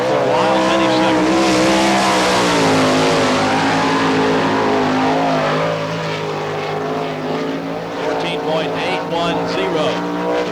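Lance Deweese's number 461 sprint car roars around the Barberville, Florida dirt track during All Star Circuit of Champions qualifying, a loud, sustained, high-revving engine wail that swells and eases slightly as it circles, with commentary underneath.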